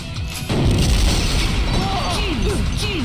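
Grenade launcher explosions in the game Killer7, heavy booming blasts with crashing debris that sustain loudly after a sharp onset, with whistling tones sweeping through in the background.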